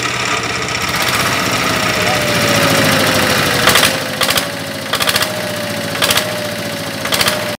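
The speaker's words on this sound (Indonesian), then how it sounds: "getaran mesinnya yang sangat mantap, serta bonus suara mesin yang ngalahin suara knalpotnya" Yamaha NMAX 155 VVA scooter engine running rough with heavy vibration, a steady loud drone with periodic knocking pulses in the second half, with a voice talking over it.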